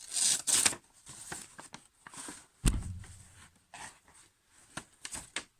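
A Cold Steel Roach Belly knife, slightly dulled from work use, slicing through paper in short rustling strokes with crisp tearing edges and sharp handling clicks, close by and without talk.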